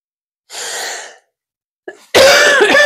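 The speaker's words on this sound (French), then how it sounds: "Je devrais couper quand je tousse, je suis désolée." A broad breathy exhale, then a short catch and a burst of harsh, loud coughing, close up with no talking.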